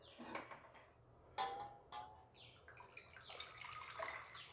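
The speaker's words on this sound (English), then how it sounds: "We'll filter this jaggery water into this." Jaggery water being poured through a filter into a heavy-bottomed vessel in a home kitchen, heard as soft, faint trickling and splashing with a few sharp clinks of utensils against metal.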